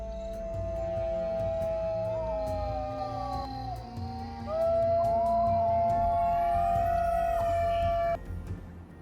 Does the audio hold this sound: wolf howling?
yes